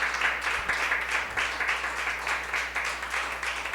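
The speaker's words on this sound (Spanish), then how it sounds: "Pues denle un aplauso al Señor, por favor." Church congregation applauding at a Spanish-language service, a sustained rippling crowd clap with a slight pulsing rhythm, full and steady with no talk over it.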